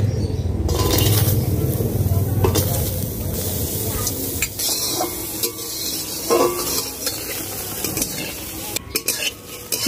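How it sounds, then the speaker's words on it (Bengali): Spices being dry-roasted in a hot, oil-free wok for a rohu fish curry, with steady scraping and stirring over a soft sizzle and occasional clinks of the utensil against the pan, close and fairly loud throughout. "এবার শুকনো কড়াইতে এগুলো ভেজে নেব।"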